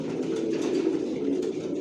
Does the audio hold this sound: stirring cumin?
no